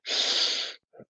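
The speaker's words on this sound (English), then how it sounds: "Take a deep breath in" A deep breath drawn in during a vinyasa yoga flow: one long, steady, airy inhale lasting most of a second, close and clear, followed by a brief softer breath sound.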